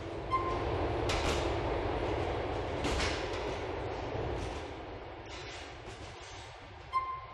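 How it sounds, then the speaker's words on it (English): Train running in GTA4, with a steady loud rumble of wheels on track and a few sharp clanks and door-like bangs along the way. "The train is approaching Bauxite Station."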